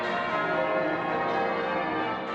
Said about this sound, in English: As the bells chimed for 11 o'clock